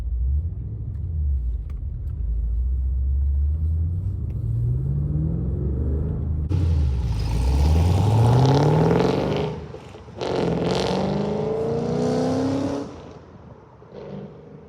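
Holden Commodore VE Series 2 SS sedan engine with 152,000 km, a deep rumbling V8 idling low and then revving hard as it pulls away, the pitch sweeping up through loud accelerations and easing off.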